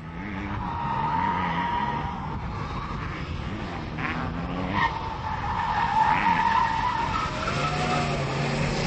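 A supercharged 2004 Ford Mustang SVT Cobra convertible with an Eaton blower roars steadily on a drag strip with tire squeal and skidding noise, loud and close, rising and falling over several seconds.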